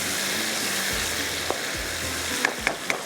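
Green chillies fry in a pan with a steady, close sizzle, broken by a few sharp clinks and scrapes of a utensil near the end; no one talks.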